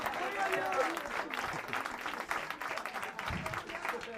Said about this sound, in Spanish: Le damos un aplauso de alabanza al Señor.